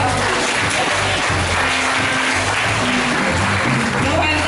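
A church congregation applauds with a thick, continuous wash of clapping over a low droning hum, steady and loud throughout.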